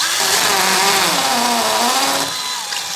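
A hammer drill whines loudly up close, its pitch sagging under load as it bites into a hard wall behind plasterboard, then easing off near the end.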